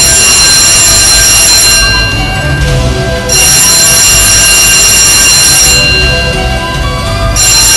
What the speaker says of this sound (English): This is a man overboard alarm. The alarm will ring for 3 long ringing.